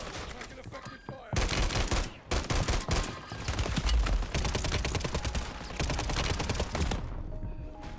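Dense bursts of video game gunfire, loud and close, rattle almost continuously with rapid volleys and short gaps, a fusillade of automatic weapon shots filling the stretch.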